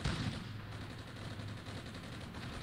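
Gunfire in the Armored Brigade war game rolls on as a dense, continuous crackle of distant shots and rumbling bursts, moderately loud and without speech.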